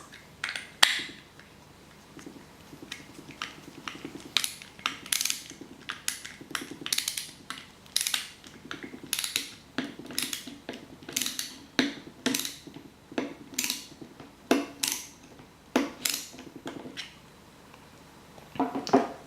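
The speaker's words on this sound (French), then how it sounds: "avec un tournevis, serrez la vis" A screwdriver drives a DM-type screw into the metal parts of a DeLorean scale model, giving bursts of short, scratchy, ratcheting clicks. The sound is quiet and close, with small pauses between the bursts.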